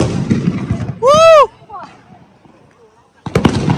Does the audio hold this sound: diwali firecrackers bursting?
yes